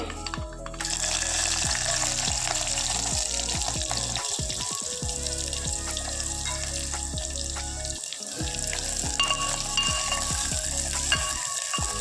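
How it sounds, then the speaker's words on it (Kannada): Garlic, green chillies, a dry red chilli and onion fry in hot oil for rasam: a continuous close, loud sizzle with frequent small clicks and taps of stirring, and no speech. "ಚೆನ್ನಾಗಿ ಫ್ರೈ ಮಾಡ್ಕೊಳ್ಳೋಣ"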